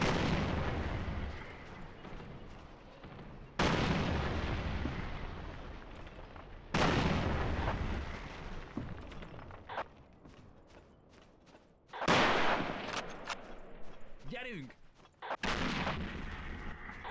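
An 88 mm anti-aircraft gun firing in the video game Battlefield, with several heavy booming shots spaced a few seconds apart, each followed by a rumbling decay, loud and near.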